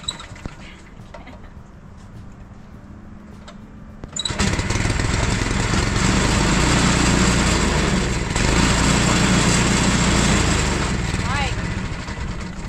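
A sawmill engine milling timber for a timber-framed covered porch: a quiet stretch with small knocks, then the engine roars in and holds a loud, steady drone, with people talking nearby.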